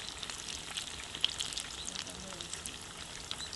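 Fish frying in hot oil, pieces of rockfish cooked for fish cutlets, giving a steady fine crackling sizzle at close range with occasional sharper pops throughout.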